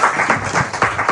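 A live audience at the Maison de Luis Mariano in Arcangues claps as a contestant settles into a seat, a short burst of close, loud, uneven clapping.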